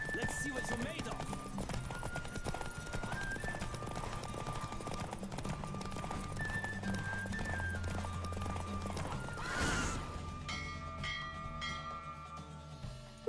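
A galloping horse in The Witcher 3 video game, rhythmic clip-clop of hooves running steadily under game music, with a whinny near the middle before the hoofbeats fade.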